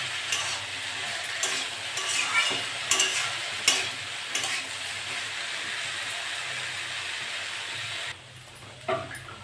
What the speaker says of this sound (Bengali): এটা নেড়ে চেড়ে ভালো করে ভেজে দেবো।